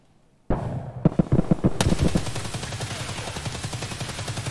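Gunfire in Escape From Tarkov, a sudden burst of rapid automatic shots after a quiet start, followed by a sustained fast string of loud, close cracks.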